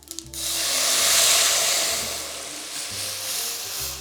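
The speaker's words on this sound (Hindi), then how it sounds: "तड़का भी क्रैकल हो गया है, बहुत अच्छी सी खुशबू आ रही है, आवाज़ आ रही है" A loud burst of sizzling as kadhi mixture hits hot oil tempering, hissing strongly at first and then settling into a softer, steady crackle.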